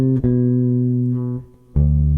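A short jazz phrase on a sustained, tuned instrument: a five-note Dorian mode cell over a ii-V, with steady held pitches, a brief dip, then a renewed loud note near the end. No talking.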